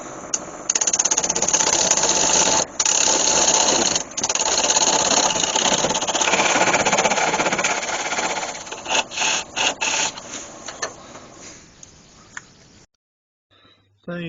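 A spindle roughing gouge cuts a tenon on a piece of cherry spinning on a wood lathe, giving a loud, steady scraping and rumbling drone with brief breaks, then easing into intermittent cuts before stopping.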